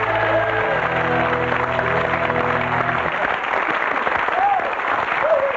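Audience applause for a big band orchestra on a French television variety show, a steady dense clapping wash that fills the whole stretch, with sustained band chords underneath at first and faint voices mixed in.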